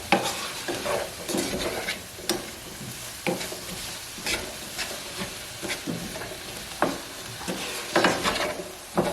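Shredded cabbage with a sprinkle of sugar sizzling in a hot pan over medium to medium-high heat, with repeated scraping stirs from a utensil knocking against the pan.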